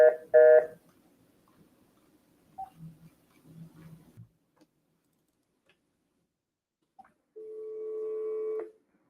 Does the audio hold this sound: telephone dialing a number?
yes